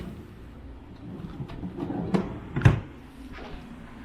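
A hotel room nightstand drawer in a King Bed room at a Days Inn in Carlsbad, NM, slid open and shut, giving a few soft wooden knocks and one sharper thump, close by in a quiet room.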